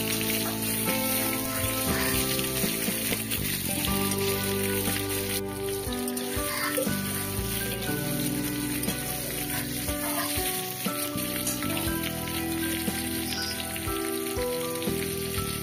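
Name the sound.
bitter gourd (kakrol) frying in mustard oil with green chillies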